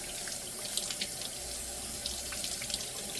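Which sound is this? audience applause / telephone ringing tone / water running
water running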